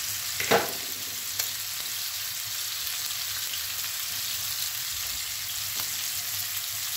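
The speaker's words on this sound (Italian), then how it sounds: "mettiamo anche i nostri cubetti di pancetta e li facciamo brustolire per 30 secondi" Cubes of pancetta fry with onion, garlic and chili in a pan for fusilli alla Calabrese, a steady close sizzle with a few light stirring clicks.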